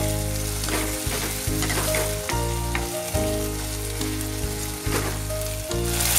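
Chopped tomato fries in a hot pan for til achar, a loud continuous sizzle broken by repeated scraping strokes of stirring, with no voices.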